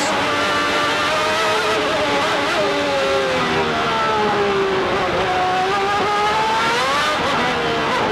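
A 1995 Formula 1 car screams at over 17,000 rpm during the Brazilian Grand Prix, a loud, sustained high-pitched engine wail that climbs and dips with gear changes and stays steady throughout, with no talk.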